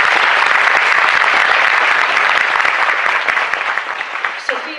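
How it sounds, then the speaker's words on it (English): A commencement audience gives a round of loud, dense applause that holds steady, then thins out and fades to scattered claps. "she deserves a round of applause"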